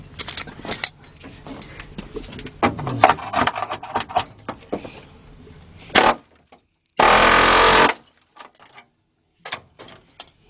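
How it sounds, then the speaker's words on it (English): A chisel bites repeatedly into the floor pan of a Ford Mustang, giving a run of sharp metallic impacts and scraping, followed by a dense steady burst and a few scattered knocks near the end. "let's see what the chisel can do, and we can get this thing up out of here"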